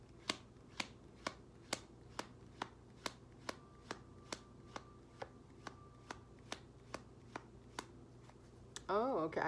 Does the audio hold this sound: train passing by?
no